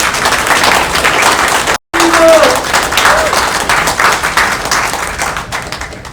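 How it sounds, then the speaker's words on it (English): Sustained crowd applause at the Hawaii Book and Music Festival fills the whole stretch, dense and steady, with a brief dropout near the two-second mark before the clapping resumes. "Let's give another round of applause."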